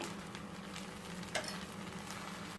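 Wheat dosa batter sizzles steadily in oil on a hot pan, a close, even frying hiss with a faint clink partway through and no talk.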